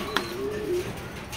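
Racing pigeons coo in a short low phrase alongside a quick sharp click, with faint background chatter.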